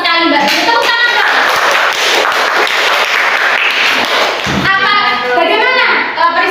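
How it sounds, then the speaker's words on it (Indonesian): Children clapping in a classroom during a micro-teaching lesson, a loud burst of hand claps under a teacher's and kids' voices, with a thud partway through. "Tepuk tangan Mbak."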